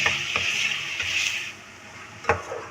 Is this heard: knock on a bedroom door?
no